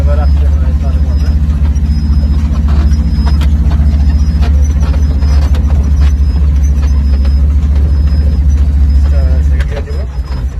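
A car pulling away in first gear, its engine droning loud and steady close by, with a faint repeating beep and a voice speaking over it, the engine easing near the end.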